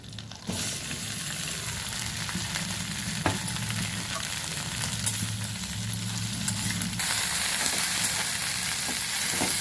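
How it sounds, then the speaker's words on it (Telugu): Okra pieces frying in oil give a steady, close sizzle for the whole stretch, louder after a moment, with a few faint scrapes and taps of a spoon and no talking. "ఇప్పుడు ఈ బెండకాయ ముక్కల్ని ఈ ఆయిల్లో వేసి కొంచెం వేయించాలి."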